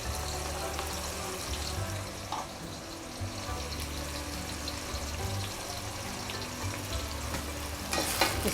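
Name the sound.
onions frying in hot oil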